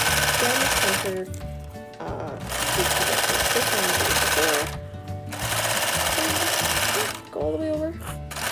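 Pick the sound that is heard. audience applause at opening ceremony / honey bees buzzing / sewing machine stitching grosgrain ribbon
sewing machine stitching grosgrain ribbon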